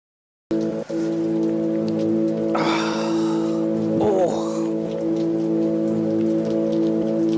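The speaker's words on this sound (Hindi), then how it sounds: "मानसून बारिश के 12 घंटे तवील तूफानी स्पेल ने अहम शाहराहें पानी में डूब गई" Heavy monsoon rain pours down in a loud, steady roar that starts abruptly, with a sustained tonal hum underneath and a few brief louder swells partway through.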